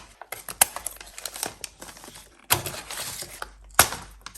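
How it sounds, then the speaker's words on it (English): Sewn-on handles being snipped off a recycled paper bag, a series of sharp close crinkles and cuts with rustling paper in between, louder bursts near the middle and end, no talk. "I'm just going to snip these off on the inside where they're sewn on"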